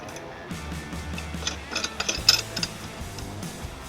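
A nut being tightened onto a carriage bolt on a hitch end bracket for a 2022 Toyota Sienna, heard as a run of close mechanical ratchet clicks in a quickening, uneven pattern.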